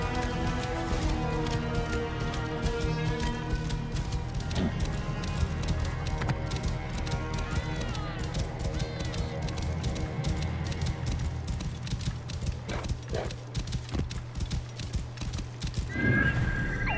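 A horse in the Assassin's Creed Origins video game gallops with steady, rapid clip-clop hoofbeats throughout and gives a neigh, all over a continuous bed of game music and ambience.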